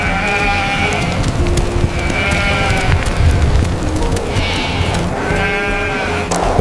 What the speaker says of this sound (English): The sheep herd has grown.